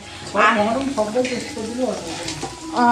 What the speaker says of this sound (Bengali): যেমন পেঁয়াজটা ভাজা হচ্ছে সেই রকম ভাজা হবে